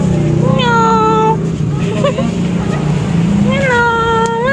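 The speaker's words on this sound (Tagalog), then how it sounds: "Meow!" Two long, drawn-out cat meows, one at the start and one at the end, heard close over a steady engine rumble outside an SM mall.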